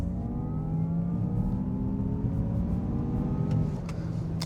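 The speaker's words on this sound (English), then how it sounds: "Let's just go ahead and floor it and see what we can get." A 2024 Honda Prologue Elite all-wheel-drive electric SUV accelerates at full throttle in sport mode, giving a steady rising whine and drone with road and wind rumble underneath, heard from inside the cabin and continuous for several seconds.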